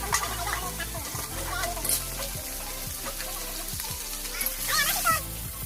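Surimala flowers and green chillies fry in hot mustard oil with a steady close sizzle, broken by scattered clinks and scrapes of stirring throughout.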